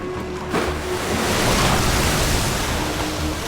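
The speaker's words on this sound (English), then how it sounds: "a massive wave was unleashed" A massive ocean wave surging up around Antarctic pack ice, heard as a loud, rushing roar of surf and water with a broad wash that swells midway and stays close throughout.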